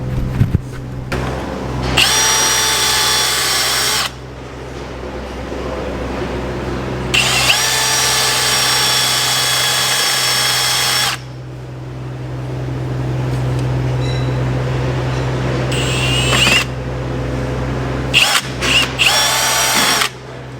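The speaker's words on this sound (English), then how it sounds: "I'm going to just use a drill to get that cleaned up a little bit" A power drill whirs loudly in several bursts, each running a few seconds, with grinding contact and short pauses between runs, cleaning up metal around broken fender bolts on a tractor.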